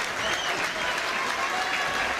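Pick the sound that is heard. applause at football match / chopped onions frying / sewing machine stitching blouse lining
applause at football match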